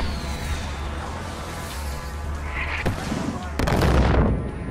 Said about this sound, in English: Holy crap, they just called for a mortar strike!